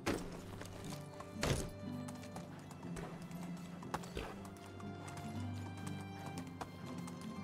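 A horse clip-clops along in a steady trotting rhythm as it is ridden in the game Medieval Dynasty, with hoofbeats close and clear over a soft outdoor ambience.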